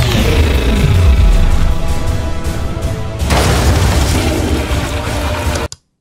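Explosions from strikes in a Skibidi Toilet animation: a loud, sustained rumbling blast with a fresh burst about halfway through, roaring continuously before cutting off abruptly at the end.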